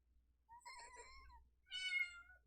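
An angry kitten gives two drawn-out, strained meows, close and moderately loud, separated by a short pause.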